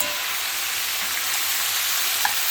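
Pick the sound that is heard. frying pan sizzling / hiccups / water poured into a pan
frying pan sizzling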